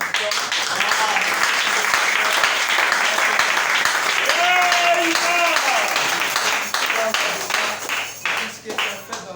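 Church congregation clapping in praise during a service, sustained applause with voices and a sung or spoken tone over it, thinning out toward the end.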